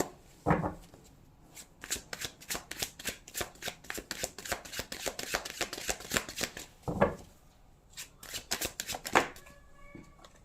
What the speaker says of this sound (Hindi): पहले मैं कार्ड से निकाल लेती हूँ